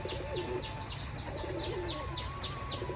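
Pigeons with clipped wings coo softly near their cage, with repeated low throaty calls and a few sharper chirps over a faint, constant outdoor background.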